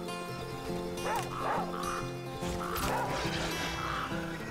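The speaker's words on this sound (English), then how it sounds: "there's a wolf there, what the hell?" A wolf in The Flame in the Flood gives repeated close barks and yelps over a steady drone of game music.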